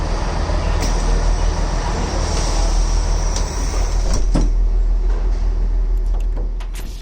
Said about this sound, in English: we are in the Transport for Wales train